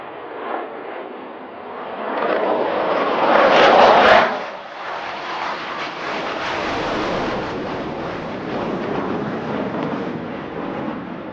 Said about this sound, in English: Now the aircraft is performing a minimum radius turn right in front of you.